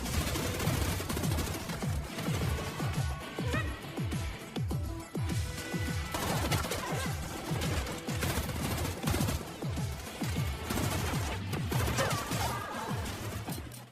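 Sustained, intense gunfire from a film shootout in which two fighters battle many mercenaries, with dense rapid bursts, sharp impacts and crashes layered over a dramatic soundtrack, loud and continuous throughout.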